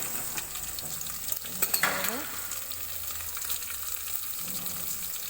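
Garlic sizzles in hot oil, a soft crackling fry punctuated by a few sharp stirring clicks and scrapes, fairly quiet and close.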